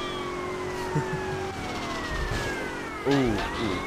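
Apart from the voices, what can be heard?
police siren in the video game Grand Theft Auto: Vice City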